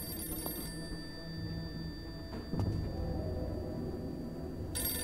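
A telephone rings indoors, its steady electronic tone running across the whole stretch over a noisy room background, with a brief louder bump midway and no talking.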